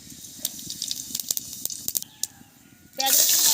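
Cumin seeds going into hot oil in a kadai for tempering a Bengali village-style shol fish curry: scattered light pops and clicks, then a sudden loud, steady sizzle that takes over near the end.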